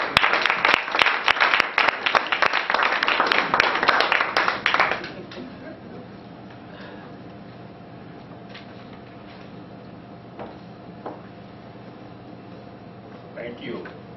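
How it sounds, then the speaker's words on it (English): Audience applause for a speaker at a Toastmasters club meeting, loud and dense for about five seconds before cutting off, leaving a quiet room hum and faint stray sounds. "Let's give a big round of applause to Adesina."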